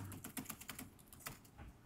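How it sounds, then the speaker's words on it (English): Rapid typing on a laptop keyboard at a technical conference talk, a quick irregular stream of light key clicks, faint and distant with steady background hum. "I'll just do some fast typing"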